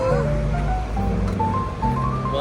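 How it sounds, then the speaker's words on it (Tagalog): Strong wind buffets the microphone outdoors in Hong Kong, a continuous low rumbling roar beneath voices talking nearby. "Malakas lang hangin."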